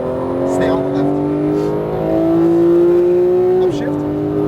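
A Porsche GT3 accelerates on a race track, its engine tone climbing steadily and loud over several seconds, then a quick shift drops the pitch before it climbs again.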